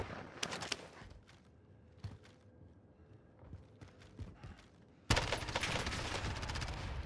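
Gunfire in the video game Warzone, with scattered distant shots and footstep-like clatter that break into a sustained loud burst of rapid firing near the end.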